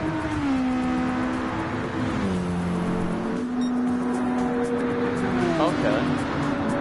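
A Porsche race car lapping Fuji in Gran Turismo 7, its engine note stepping down through gear changes and climbing again, with tire noise and a commentator talking over it.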